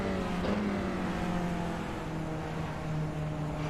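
Onboard race car engine in the iRacing sim at the Hungaroring during a touring car race, a steady, droning engine note that shifts pitch as it changes speed.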